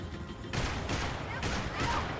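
Rapid gunfire bursts in the action game Max Payne 3, several loud broadband volleys after a quiet start, amid chaotic in-game noise.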